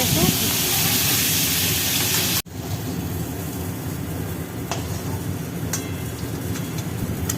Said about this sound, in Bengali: এরপর পটলগুলো আমি ভেজে নেব।